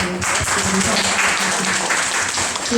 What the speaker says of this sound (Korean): 우리 너무 좋은 강의를 열강을 해주셨는데 다시 한번 박수.